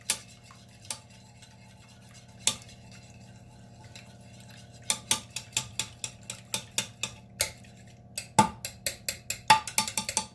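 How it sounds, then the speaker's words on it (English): A dough whisk clicks and scrapes against a pan while breaking up and mixing eggs: sparse taps at first, then a quick irregular run of sharp metallic strikes, close and clear with no talking. "I'm just going to use my dough whisk that I've had for some years now. Break up my eggs, mix them up in the pan."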